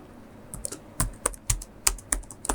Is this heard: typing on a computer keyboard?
yes